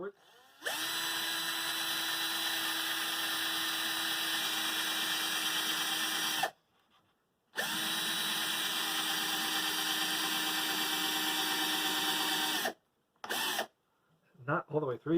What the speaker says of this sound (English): I'm just going to drill a series of holes along here